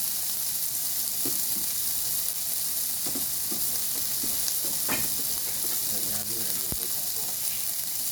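Tomato and sugar sauté with chayote in a pan, giving a steady, loud sizzle throughout. Scattered clinks of a utensil stirring come through the hiss.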